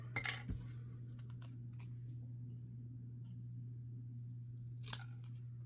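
Scissors snip through paper for a Halloween craft shape, a few quick crisp cuts near the start and one more near the end, faint and close over a steady low hum.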